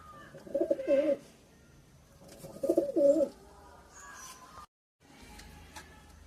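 Pigeons at a bird farm coo in two close bursts of soft, throaty calls while feeding on sweetcorn, with quiet gaps between and a brief silence near the end.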